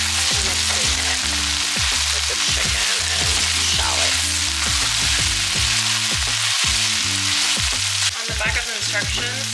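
Thinly sliced butternut squash sautés in a pan with a loud, continuous sizzle while a utensil gently stirs it, making repeated soft scrapes and clacks against the pan throughout.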